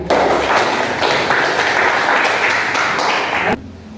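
A classroom of students applauds loudly in a dense burst of clapping that cuts off sharply near the end, followed by quieter room sound.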